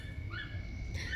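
A dog whimpers faintly, two thin rising whines over a steady low background rumble, heard from some distance.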